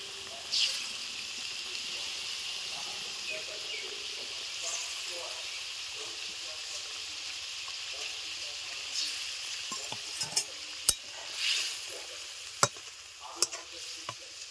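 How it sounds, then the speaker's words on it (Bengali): Cabbage tossed into a hot pan for a Bengali vegetarian dish cooks with a soft, continuous sizzle and hiss, with sporadic stirring clinks and scrapes growing sharper toward the end. "এখন বাঁধাকপি দিয়ে দিচ্ছি।"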